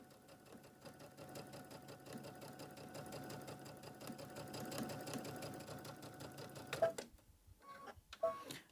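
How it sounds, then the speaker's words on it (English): A sewing machine top stitches an apron pocket in a fast, steady mechanical chatter of needle strokes, close and fairly quiet, then stops, followed by a few small clicks and handling noises. "right now, as I'm top stitching"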